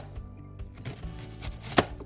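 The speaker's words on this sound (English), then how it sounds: "We'll slice it and then we'll end up chopping it." A knife chops through an onion on a cutting board, giving a few soft, irregular thuds and one sharper close knock near the end, with no voices.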